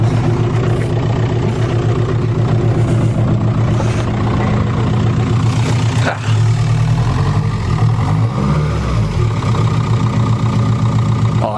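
A diesel project car engine runs loud and close, a steady low rumble with heavy harmonic throb that briefly dips around mid-clip before resuming as the car pulls away.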